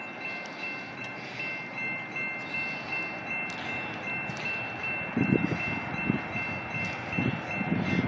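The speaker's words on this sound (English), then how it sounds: "Here comes another train." A BNSF freight train of piggyback and double-stack cars rumbles past at a steady roar, with low clanking thumps growing heavier toward the end and a faint high whine above.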